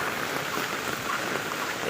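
Continuous rain falls steadily in Chuadanga during a low-pressure spell, a dense, even hiss of drops on surfaces with no voices.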